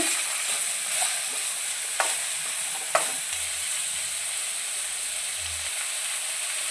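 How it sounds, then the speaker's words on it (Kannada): Chopped onions fry in hot oil toward golden brown for masala dosa potato filling, giving a steady close sizzle with a few sharp clicks of stirring against the pan and no voices. "ಈರುಳ್ಳಿನ ಹ್ಯಾಡ್ ಮಾಡಿ ಗೋಲ್ಡನ್ ಫ್ರೈ ಬರೋವರೆಗೂ ಗೋಲ್ಡನ್ ಕಲರ್ ಬರೋವರೆಗೂ ಫ್ರೈ ಮಾಡ್ಕೋಬೇಕಾಗುತ್ತೆ"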